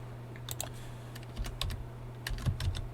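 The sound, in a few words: typing on a computer keyboard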